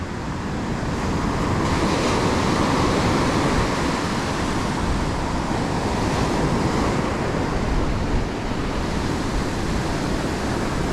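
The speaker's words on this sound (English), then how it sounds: "just where the waves breaking onto the sand" Ocean waves break steadily onto a sandy beach at a fishing spot, a loud, continuous roar of surf with gentle swells and no voices.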